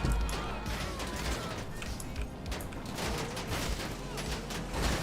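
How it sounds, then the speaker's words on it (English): A car tire shot and popping in GTA Online, a sharp burst among a busy run of gunfire-like cracks and crashing noise that fills the whole moment. "they popped the tire on me"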